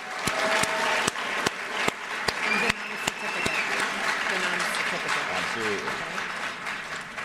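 Loud, sustained applause from an audience at a high school honor society induction ceremony, with several sharp claps standing out near the front and murmuring voices underneath as it continues.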